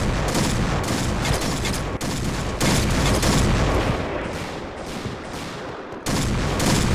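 Dense gunfire from the Point Blank shooter game crackles almost continuously, with loud rapid bursts and overlapping shots broken by only a few brief gaps.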